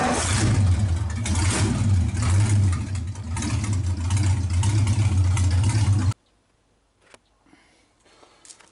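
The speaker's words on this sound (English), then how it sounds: "So let's do a cold start." A 1931 Ford Roadster's engine fires on a cold start after a freezing night and runs loud and steady with a rough, throbbing idle for about six seconds, then cuts off abruptly, leaving only faint scattered rustles.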